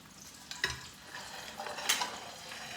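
Steady crackling sizzle of chicken cutlets frying in oil over medium-low heat, with a couple of clinks from a utensil against the pan.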